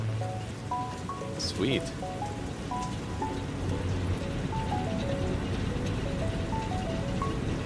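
Rain in the factory-building game Satisfactory: a steady, soft hiss of falling drops under bright, plinking melodic game music tones, with a person briefly speaking.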